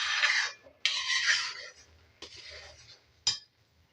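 A spatula scrapes and stirs thickening khoya (milk) in a pan over a low flame, giving several rasping strokes with short pauses and a sharp metal clink near the end.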